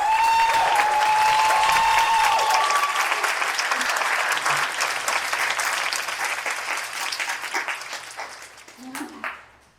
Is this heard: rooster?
no